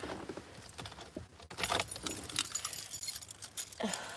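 Someone digs through a cluttered room looking for keys, with several short metallic jangles and clinks amid rustling and shuffling, fairly close and with no talk.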